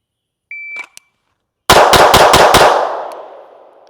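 Five rapid pistol shots from an Alpha American AAF3 2011 at 5 yards, a loud close string fired in quick, even succession. A short electronic beep from a shot timer sounds just before them.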